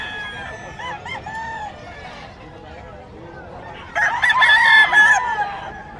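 Roosters crow repeatedly at a busy pet market in Bocaue, Bulacan, some calls nearer and louder and overlapping near the end. People talk and a crowd murmurs throughout underneath.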